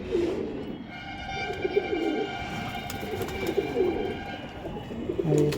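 Pigeons in a full loft coo steadily, with low throaty rolling calls repeating close by over faint background hum and a few soft chirps, and no one talks.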